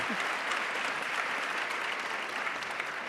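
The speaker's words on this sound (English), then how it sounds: "Give them a round of applause for that." An audience at a youth engagement event in Belhar claps for a youth organisation, a steady, moderately distant round of applause held at an even level without cheers or talk.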